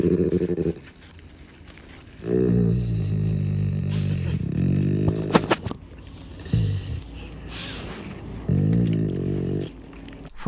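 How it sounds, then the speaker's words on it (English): Dog growling while having its ears cleaned, several loud, rumbling growl bursts with short pauses between, close up. "I think this dog really likes to get his ears cleaned."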